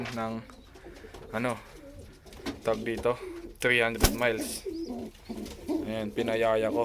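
Racing pigeon, the offspring of a champion bird, cooing close by in soft repeated calls while someone talks over it for most of the stretch.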